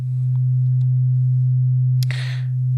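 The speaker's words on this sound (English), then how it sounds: "But it is a very gentle saturation," A steady, loud low synthesizer tone hums with a faint buzzy edge, briefly interrupted by a click and a short burst of hiss near the end.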